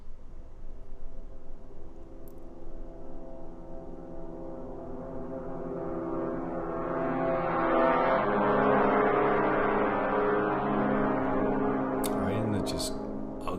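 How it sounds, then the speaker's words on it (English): Symphobia orchestral brass effects patch swelling from a dark, rough low drone into a louder, brassy, dissonant roar that peaks and holds, with a few clicks near the end. "this is another Extended Techniques Orchestral Brass Effects"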